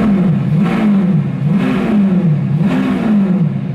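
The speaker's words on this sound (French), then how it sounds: "C'est Lamborghini, frérot. Un V12 qui hurle à la mort" Lamborghini V12 engine revving hard with a snarling, angry tone, three rising rev surges in steady rhythm, loud and close, with no voices over it.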